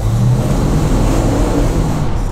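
A Dodge Charger R/T with a 7.2 liter engine revving hard and loud nearby, a dense, continuous low rumble that holds steady without pause and has no talking over it.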